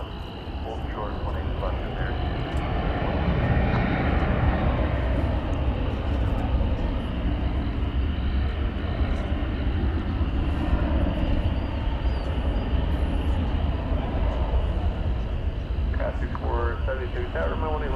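Jet airliner, a Boeing 737-800, taxiing past the terminal at a large airport, giving a steady broad engine roar that holds throughout at moderate distance, with a voice talking over it.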